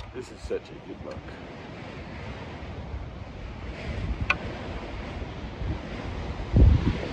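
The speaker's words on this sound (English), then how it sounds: "The wind is blowing up here." Wind blowing in an open Nevada desert, heard as a steady rough rumble and buffeting against the microphone throughout, loud and close, with a brief thump near the end.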